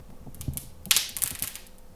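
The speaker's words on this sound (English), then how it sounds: "Time to get the sound of the plastic peeling off the front of the TV." Protective plastic film peeling off the screen of a 77-inch LG CX OLED TV, a brief series of crinkly, crackling rips building over about two seconds, close and fairly quiet.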